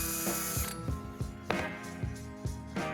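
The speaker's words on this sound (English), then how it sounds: "I'll drill holes with a 5/64 bit" A small drill with a 5/64-inch bit whirs close up, with rapid ratcheting clicks and bursts as the bit bites in repeatedly, loud and mechanical.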